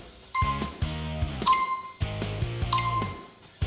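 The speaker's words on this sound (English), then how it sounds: "It's gonna chime that it's ready to go." A Typhur sous vide cooker sounds its done chime, three separate multi-tone electronic melodies, each a bright ding followed by lower descending notes, repeated clearly and loudly up close.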